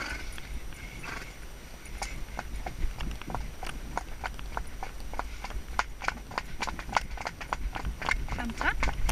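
A horse canters on a frosty winter trail ride, its hooves beating a steady, rhythmic clip-clop at close range while a rider's voice is heard briefly.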